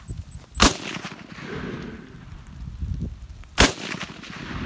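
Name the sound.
gunshot from a Draco pistol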